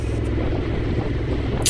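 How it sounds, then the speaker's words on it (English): Bank holiday road traffic heard from a Honda CRF1100 Africa Twin motorcycle tour, a steady low engine rumble and road roar with a brief hiss at the end. "All the bank holiday traffic."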